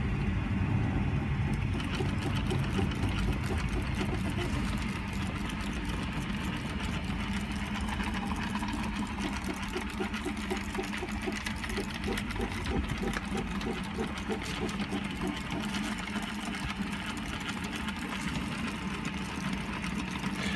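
R2D2 droid drive motor running under power, turning a belt and idler wheels: a steady, close mechanical whir and hum with a fine rapid rattle, continuous and unchanging throughout.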